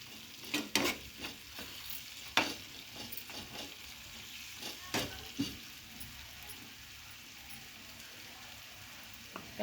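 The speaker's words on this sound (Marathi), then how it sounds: "ते चांगलं असं परतून घेऊ।" Salted soybeans are being stirred in a pan at home, with soft sizzling frying under scattered sharp scrapes and clinks of a spatula against the metal, fairly close and quiet with no voices.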